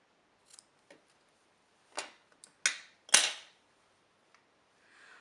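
Scissors trimming a decorative loop of twine, several sharp, quick snips close by, irregularly spaced with quiet gaps between.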